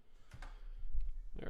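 A computer keyboard clicks in a brief, faint burst of a few keystrokes, partly under a person's talking.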